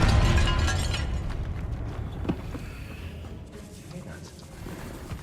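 A fiery Confringo spell blast in Hogwarts Legacy, set in a tomb, bursts loudly at the start and rumbles away over several seconds, with a sharp pop midway and low eerie ambience beneath.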